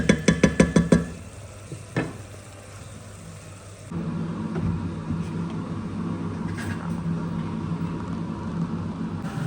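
Chopped onions stew in a frying pan for a savory pie filling. A few sharp rhythmic taps open the sound, then a steady, close sizzle and hiss continue evenly with no voices.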